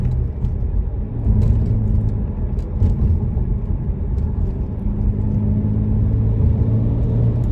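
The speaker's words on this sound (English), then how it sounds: "a turbo that sounds like that, it's going bad" BMW 335i with a suspected failing turbo or boost leak, heard from inside while driving: a steady low engine rumble and road drone with a faint whirring tone riding over it, continuous throughout.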